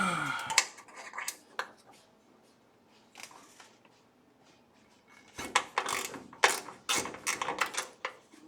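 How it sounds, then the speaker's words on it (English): Metal bolts being loosened by hand on a Boeing 737 flight simulator: scattered clicks, scrapes and clanks in irregular bursts, quiet at first and then busier, close by with no talk. "I need to get up in here and release these bolts."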